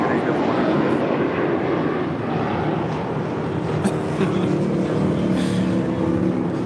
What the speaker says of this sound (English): That is JetBlue Airways Flight 100 departing to Fort Lauderdale on an A321.